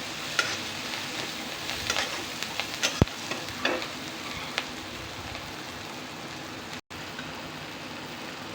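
Green chillies sizzle and fry in oil in a pan while gram flour pithla is being made, a steady close crackle with scattered sharper pops and stirring clinks, no voices.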